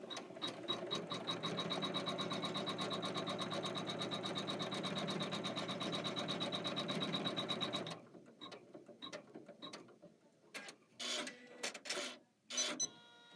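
An embroidery machine stitches down fabric on a garden-themed embroidery-by-number bloom block with a rapid, even mechanical chatter for about eight seconds, then stops, leaving a few scattered clicks and handling noises.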